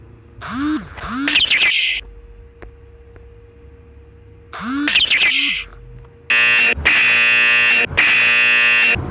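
A Gojek driver app sounding a new-order alert on a phone: two short chirping tones, a pause, another chirp pair, then three loud sustained buzzing alarm bursts close by, with no talk over them.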